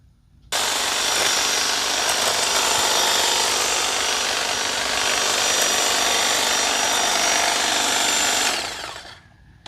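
A Toro Flex-Force 60V cordless hedge trimmer cuts into a bush in one loud, continuous buzzing run of about eight seconds. The cutting starts abruptly, holds steady and then winds down at the end.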